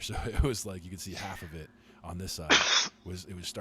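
A single sharp sneeze breaks into a casual conversation, a brief loud burst between stretches of people talking.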